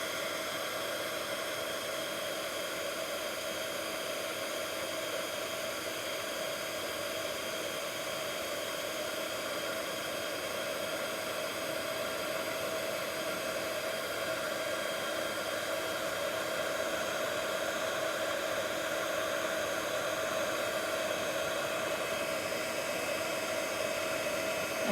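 A craft heat tool blows a steady, unbroken hiss for a long stretch while warming heavyweight cardstock on a card base, with no talking over it.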